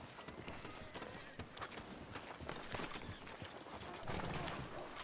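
In the Red Dead Redemption 2 video game, a horse's hooves clip-clop in an even walking rhythm, fairly close and continuous, with no talk over them.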